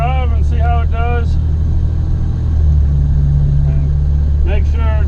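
A 1985 Chevy C10 pickup truck drives with a steady, loud, low engine rumble and road drone throughout. Someone talks over it at the start and again near the end.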